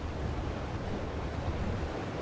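Steady, dense roar of rushing water from a waterfall, loud and continuous without pause throughout, with no voices over it.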